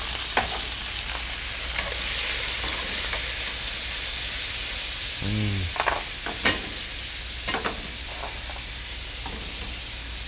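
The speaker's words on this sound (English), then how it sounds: "I'm going to just put my seafood in, just like that." Seafood, including calamari, sizzling and frying in a pan with butter and olive oil, a steady loud hiss throughout with a few small clinks and stirring sounds, no talking.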